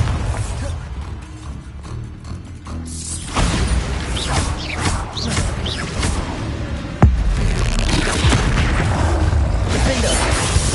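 Bombarda and Confringo spells explode in Hogwarts Legacy on PS5, with loud booms, whooshes and mechanical clatter layered over continuous game noise.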